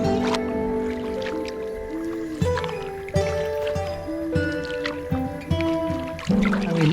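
Kayak paddle strokes on Fisheating Creek, with soft repeated splashes and dripping water close by, steady and continuous over a background of layered outdoor sound.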